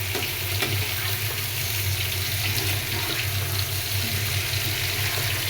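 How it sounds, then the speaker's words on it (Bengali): Pointed gourd and potato pieces fry in a pan with a steady, dense sizzle that holds at an even level throughout, with no voices. "পটল আলুটা একটু ভেজে নিলাম"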